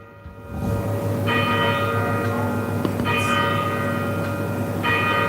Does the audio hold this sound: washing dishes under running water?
no